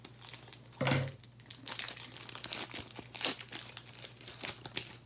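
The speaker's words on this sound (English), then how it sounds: "using the scissors on this one" Scissors slice open a Pokémon card booster pack from the Vivid Voltage set, a crinkly foil crunch and tearing rustle near the mic, with a sharper burst early on and softer handling noises after.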